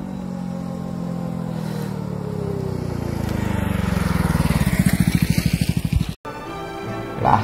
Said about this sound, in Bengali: একটি বাইক আসছে, আওয়াজ পেলেন মনে হয়